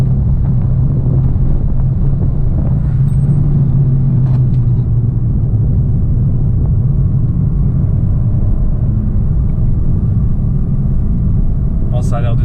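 A Fiat 500 Abarth on Koni shock absorbers rolls over a bumpy road, with a steady loud cabin rumble and road noise throughout and a few brief knocks from bumps.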